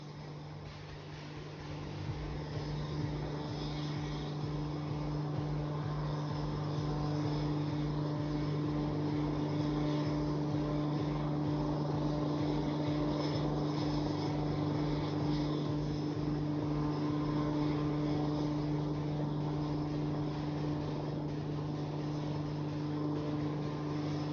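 An Embraer AEW&C aircraft flying at an air show display, heard as a steady, broad turbine roar with a strong constant drone, loud and unbroken throughout, with no talk.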